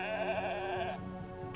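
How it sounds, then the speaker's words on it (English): A sheep bleats in a drawn-out, wavering cry that carries clearly and fills the short moment, with a brief second call rising near the end. "a little sheep named Dolly"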